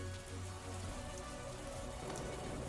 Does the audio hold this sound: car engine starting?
no